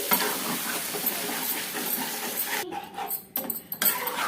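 Chicken curry being stirred in a pan with fried cashew and red chilli paste: a close, steady sizzle with spoon scrapes, then a few quieter pauses broken by sharp stirring bursts near the end.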